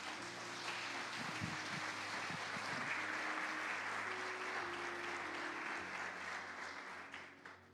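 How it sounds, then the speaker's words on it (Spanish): Church congregation applauding during a sermon, a sustained fairly faint patter of clapping with a low organ or keyboard chord droning underneath, fading near the end. "Denle un aplauso al Señor por eso."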